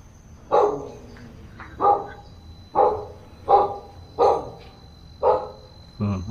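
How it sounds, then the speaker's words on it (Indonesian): A dog barks repeatedly inside an abandoned luxury villa on a mountain, about seven loud, evenly spaced barks with short gaps, fairly close and with no talk over them. "Itu gonggong-gonggong terus tuh."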